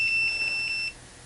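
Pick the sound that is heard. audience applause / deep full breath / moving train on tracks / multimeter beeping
multimeter beeping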